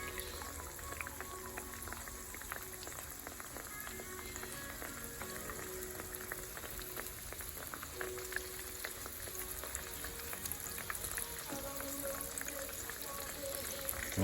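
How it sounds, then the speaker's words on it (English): Breaded pickles, dipped in egg and flour, fry in a pot of hot oil with a steady bubbling crackle that stays continuous and fairly quiet, with occasional faint voice underneath. "So there they are frying up, and if you can, you want to flip them,"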